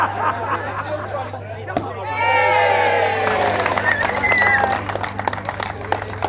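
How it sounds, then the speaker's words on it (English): A crowd at the Mini Challenge motor race podium celebration at Oulton Park applauds and cheers, rising into loud whoops and shouts over steady chatter, with a commentator talking and a low mechanical hum running underneath. "So applause and celebration time on the rostrum."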